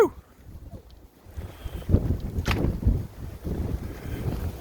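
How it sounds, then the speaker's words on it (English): Strong blizzard wind gusting outdoors in snow, rough buffeting roars rising and falling in surges, close and fairly loud, with wind noise hitting the microphone. "Oh man, it is windy."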